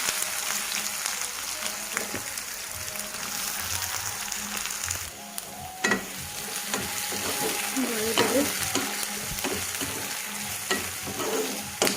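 Cumin and mustard seeds fry in oil for sarson ka saag, a steady close sizzle with occasional stirring clinks and scrapes running throughout, no voices.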